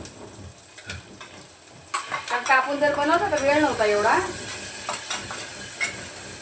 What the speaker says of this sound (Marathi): आता इथे कसं कांद्याबरोबर मी प्युरी परतून घेते थोडीशी